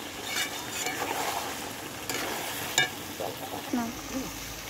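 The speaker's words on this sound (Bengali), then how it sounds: "তো এই যে এখন আমি গরম জলটা দিয়ে দিচ্ছি।" Hot water hits a pan of curry and sets off a steady, moderate sizzle and bubbling close by, with a few clinks and stirring scrapes.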